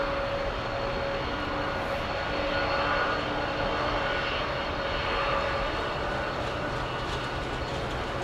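Heavy airliner taking off at London Heathrow Airport, with a continuous loud jet engine roar that holds steady throughout, with no talking.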